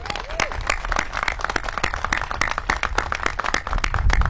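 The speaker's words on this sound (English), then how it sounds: "Let's give them a round of applause again." A round of applause from an audience at a mayor's public event on housing conditions, with dense, steady clapping held throughout and voices mixed in underneath.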